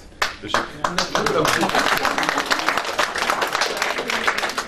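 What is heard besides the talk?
applause for Corine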